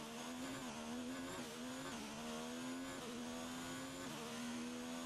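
An F1 race car engine from the F1 2019 video game drones continuously at high revs, pitch rising and dipping with gear changes, loud and sustained throughout.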